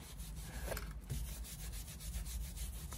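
Leather being scrubbed clean of old oils, grease and conditioners, a steady close rubbing and brushing texture with repeated strokes and no talk.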